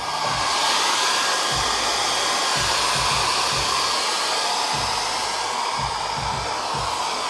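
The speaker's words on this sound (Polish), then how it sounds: "Suszarka warsztatowa." A workshop hot-air dryer blows steadily, a loud continuous whooshing roar that holds for the whole stretch, alone with no voices.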